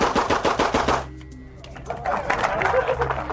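Rapid pistol shots in a shooting demonstration crack out in a fast string of about a dozen close, loud reports, a brief reload gap, then more shots, with people talking around them.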